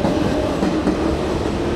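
Metro train in the Helsinki area running steadily, a loud, continuous rumble with rail clatter throughout, no voices.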